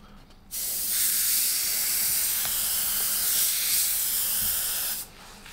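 A Procon Boy LWA trigger-type airbrush with a 0.5 mm nozzle sprays in one steady, loud burst of broad hissing air lasting several seconds, starting and stopping abruptly, with no talk.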